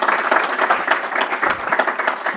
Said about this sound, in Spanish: Vamos a darles un fuerte aplauso a nuestros titanes de la sesión del día de hoy